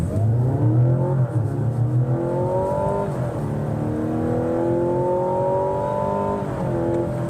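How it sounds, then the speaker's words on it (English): A three-row SUV accelerates hard from a standstill toward 60 mph, its engine rising in pitch through several gear shifts, loud and steady from inside the cabin with no talking. "we are gonna do our 0 to 60 right now"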